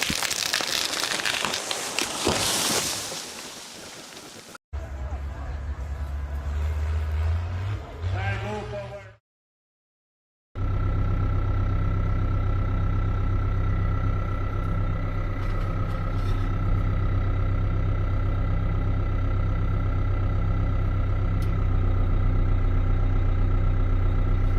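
A tractor engine runs steadily from inside the closed cab, a constant droning hum with a muffled, even tone after some earlier clattering and a brief drop to near silence.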